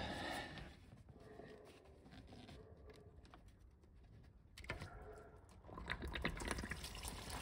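Coolant water runs out of an older BMW E30's cooling system during thermostat and viscous fan replacement, a quiet steady trickle that swells into a louder splashing gush near the end.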